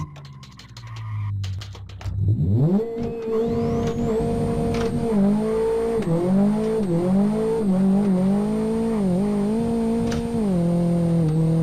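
Renault Megane in a racing video game sliding into a handbrake drift: a rising engine drone settles into a loud, sustained wavering tire squeal that holds steady for several seconds after a brief rumble.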